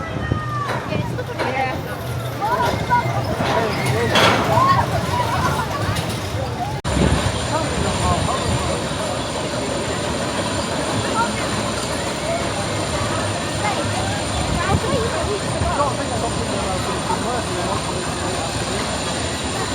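The Big One roller coaster at Blackpool Pleasure Beach roars along its track on a back-row ride, with a loud, sustained rush of wind and rattling and a crowd's babble of voices mixed in.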